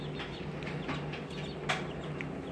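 Faint, high chicks peeping in a few scattered short chirps over a steady low hum.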